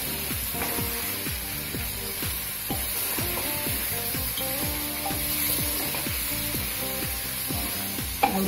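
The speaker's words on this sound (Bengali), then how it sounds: "দিয়ে এবারে নেড়ে মিশিয়ে দিয়ে আমি এবারে দিয়ে দেবো লাউটা" Bottle gourd added to a hot pan and stirred, with a steady sizzle under repeated rhythmic scraping strokes of the stirring spoon.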